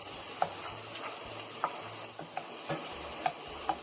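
A stir-fry sizzles quietly in a pan at close range while a spatula is pushed through it, steady faint frying hiss punctuated by about six short scraping clicks at irregular intervals.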